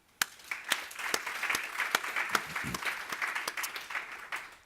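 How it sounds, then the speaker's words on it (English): Applause from a conference audience fills the room, a dense, steady patter of many hands clapping with a few sharper individual claps standing out, sustained throughout without speech. "give yourselves a round of applause."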